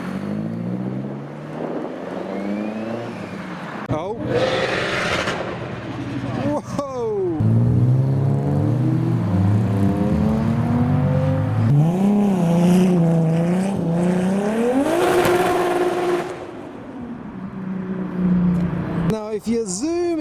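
A 1UZ V8 engine swapped into an Infiniti QX revs repeatedly at a car meet, its pitch climbing and falling through several loud throttle blips amid outdoor wind noise.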